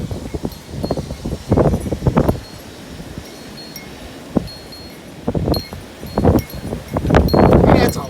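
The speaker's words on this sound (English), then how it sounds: "It's a little windy outside." Strong gusty winds over 30 mph outdoors in New Whiteland, Indiana, arriving as several loud, rushing bursts that rise and fade between quieter stretches, with no talking.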